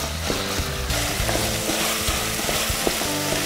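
Sausage and onion fry in a pan, caramelising and browning, with a steady close sizzle broken by scrapes and clicks of stirring throughout, no voices.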